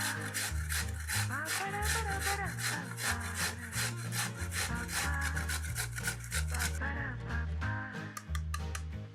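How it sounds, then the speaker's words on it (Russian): Peeled carrot rubbed on a coarse grater, rapid rhythmic rasping strokes, close and loud, repeating steadily throughout. "Одну морковь очищаем. И натираем на крупной терке."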